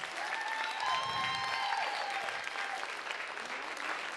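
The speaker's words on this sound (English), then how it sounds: "Give them a round of applause." Audience applause for kids performing a comedy show, a steady wash of clapping from a crowd lasting about four seconds with faint voices and whoops over it.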